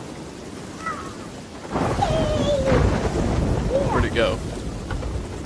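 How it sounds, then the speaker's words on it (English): Storm noise in a video game, with rain and rumbling thunder swelling loud after a quieter start and continuing steadily, while someone talks briefly over it. "I think we just wait out this storm, personally."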